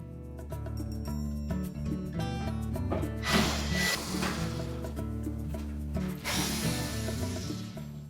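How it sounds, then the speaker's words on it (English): A power driver ratchets and whirs as it backs screws out of the corners of a Whirlpool range top. Close mechanical clicking runs throughout, with two louder bursts of driving. "You'll note that there's one screw in either corner, and we'll need to remove those."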